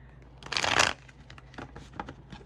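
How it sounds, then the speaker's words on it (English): Tarot cards are shuffled in a quick riffle, a dense papery flutter lasting about half a second, followed by softer scattered taps and slides of the deck, close and quiet. "shuffle one more."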